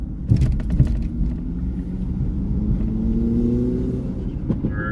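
A car with a turbocharged engine revs on a road at night, a close, loud engine drone with rising harmonic sweeps across the clip and a brief higher whine near the end, with no talk over it.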